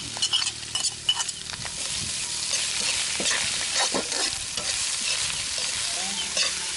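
Clams frying in a hot pan with ginger, stirred steadily, giving a continuous close sizzle with scraping and clattering shell knocks throughout, no talking.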